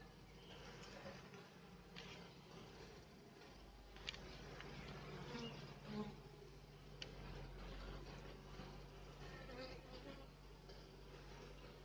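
Honeybees buzz steadily and densely during a hive inspection at the end of the acacia bloom, a close, continuous drone with no talking.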